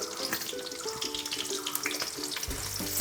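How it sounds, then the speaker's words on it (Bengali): Chopped onions added to a hot pan over a high flame for mutton curry, giving a steady, close sizzle and hiss that carries on without a break. "পেঁয়াজ কুচোগুলো আমি এবার এর মধ্যে দিয়ে দিলাম"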